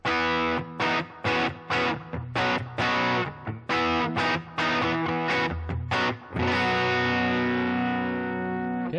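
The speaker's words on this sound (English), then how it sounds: "we'll start with the old bridge humbucker" Electric guitar on the bridge humbucker through a Helix Voltage Queen amp model, playing distorted, choppy chords and short riffs, then a final chord left to ring and decay, close and alone.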